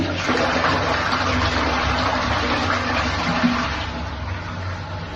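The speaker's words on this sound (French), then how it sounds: "c'est tirer, si le réservoir est plein, la chasse d'eau" A toilet cistern empties in a steady broadband rush of flushing water, loud and continuous for about four seconds before easing slightly, with no talk over it.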